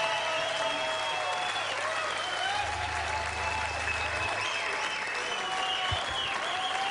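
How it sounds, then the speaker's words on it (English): Concert audience applauding after a performance, a dense, steady wash of clapping and crowd noise that holds evenly throughout. "Another round of applause"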